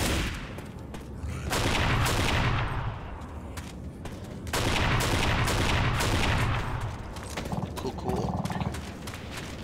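Dense rapid gunfire in Left 4 Dead 2, with long sustained bursts of automatic fire that swell loud, ease off and resume, close and continuous for several seconds.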